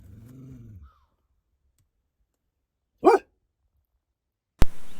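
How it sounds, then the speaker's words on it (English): One short dog bark at a deer sounds in near silence, after a brief low rumble and before a sharp click with some noise. "You don't want to bark at the deer"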